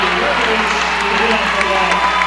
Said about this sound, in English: And they're calling, the crowd's calling for a tip.